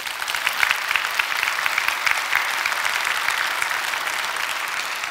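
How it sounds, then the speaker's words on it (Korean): A large church congregation applauding its elders during a Sunday sermon, a loud, sustained stretch of many hands clapping, dense and even with individual claps flickering through. "한번 장로님들에게 박수해드려요."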